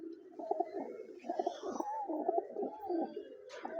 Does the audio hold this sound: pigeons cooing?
yes